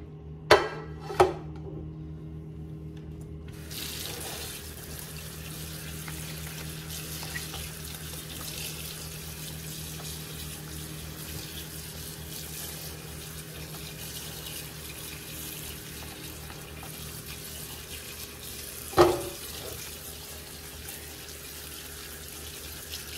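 Steady cold tap water pours into a sink, rinsing cooked pasta, a constant hiss throughout, with a few sharp clanks of metal or glass near the start and near the end.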